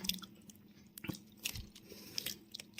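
Close biting and chewing of a crispy fried Thai taro snack (tue kha kho), crisp outside and soft inside, with several short crunchy bites and moist chewing over about three seconds, no talk.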